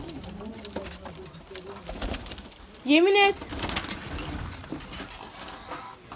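Pigeons coo and rustle in a loft, with one louder rising call standing out midway, while someone talks over them.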